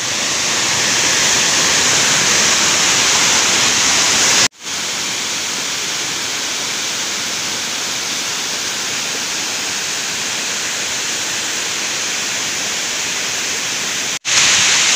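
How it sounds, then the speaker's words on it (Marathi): A steady, close rush of falling water at Chandranagar waterfall in Dapoli, Konkan fills the whole stretch, broken only by two abrupt cuts in the sound. "पाणी बघताय किती उंचावरून पडतंय"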